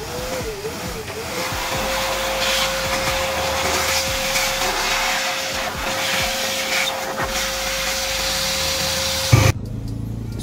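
A vacuum with a blower runs steadily while cleaning the magneto of a Honda Click scooter, a loud, constant whooshing roar with a faint whine that cuts off near the end.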